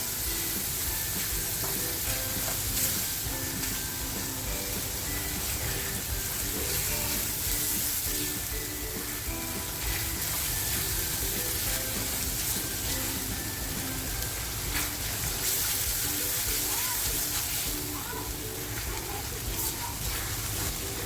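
Surmai (kingfish) tawa masala fries on a griddle after grated tomato and salt go in, giving a steady close sizzle with occasional stirring scrapes that continue for about twenty seconds.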